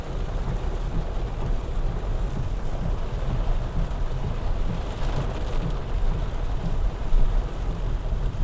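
Heavy rain pours down steadily during a drive in a Honda Accord in Bangalore, a dense continuous roar of water drumming on the car with no talk, loud and unbroken throughout.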